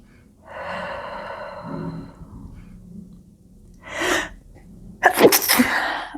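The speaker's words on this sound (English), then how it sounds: "I'm sorry, I sneezed." A breathy inhale builds into one sharp, loud sneeze, followed by a snort and heavy breathing nearby.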